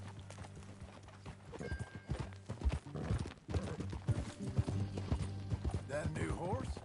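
Horse hooves clip-clop at a steady, close rhythm in the open-world western game Red Dead Redemption 2, with brief whinnying near the end and a voice talking over the ride.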